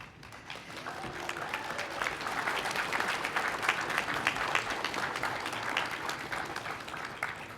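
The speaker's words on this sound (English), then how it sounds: "give them a rousing cheer or round of applause in appreciation" A graduation audience in Fredericton gives a rousing round of applause, a dense, steady wash of many hands clapping that builds slightly and holds, heard from within the hall.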